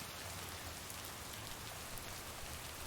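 Steady rainfall from a video game, a dense, even hiss of drops pattering on surfaces that holds unbroken for the whole stretch, faint and without any voices.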